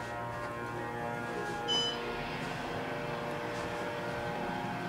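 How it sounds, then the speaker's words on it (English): A loud Otis elevator motor with a 3,000-pound capacity runs in a steady, droning hum with tonal whine, and a brief higher squeal cuts in partway through. "We got a really loud motor."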